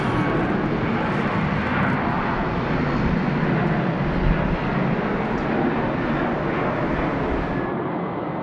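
A jet airliner roars steadily and loudly at Sydney Airport at night, a broad unbroken engine rush that holds for the whole stretch and eases slightly at the end.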